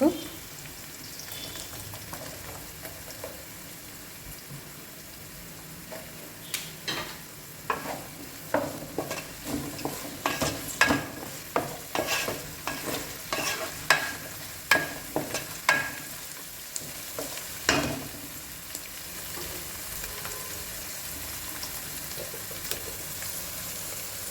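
Onions fry in a pan for egg fried rice, a continuous sizzle with a long run of irregular sharp scraping and tapping strokes from a spatula stirring them, fairly close and loud throughout.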